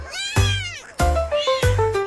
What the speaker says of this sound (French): Miaulement de joie toute la nuit.